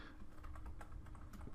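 Rapid, steady clatter of typing on a computer keyboard, close and continuous, with dense overlapping keystrokes and no voices.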